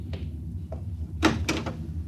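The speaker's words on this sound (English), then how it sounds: "Open the door." A door on a compartment of a spaceship opens with a short mechanical clack and a scraping slide, heard close against a faint steady background hum.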